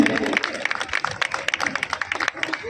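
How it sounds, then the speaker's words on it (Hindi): Crowd clapping to welcome NDMC members in the Balmiki Basti neighbourhood of New Delhi, a steady patter of many hands running throughout with an amplified voice speaking over it. "तालियां बजाओ, तालियां बजती रहनी चाहिए।"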